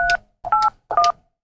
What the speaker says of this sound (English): Would you like to dial us up, Lisa?